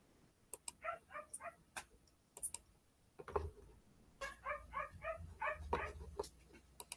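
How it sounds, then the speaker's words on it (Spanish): A dog barks in quick clusters of sharp, yappy barks with pauses between groups, moderately faint amid scattered clicks and room noise. "Perro fastidioso."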